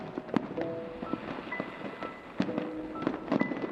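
Fireworks burst during a New Year scene in the game The Warmth Between Us, with repeated crackling pops and booms at irregular intervals over a steady background hum.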